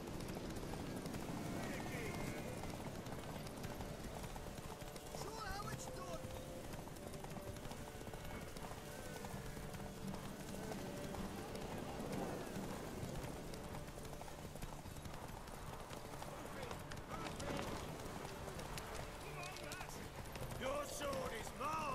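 Hooves of a horse in the video game The Witcher 3 clip-clop steadily at a moderate distance for over twenty seconds, set in a busy game soundscape with faint background noise.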